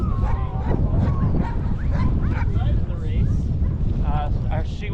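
Sled dogs at a racing kennel near Punchbowl Glacier in Girdwood, Alaska, bark, yip and whine in a loud, overlapping chorus close by, with wind buffeting the microphone.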